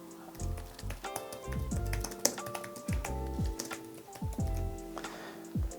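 Quick bursts of soft key taps as a note is typed on a computer keyboard, close and fairly quiet, with irregular rhythm and brief pauses between clusters.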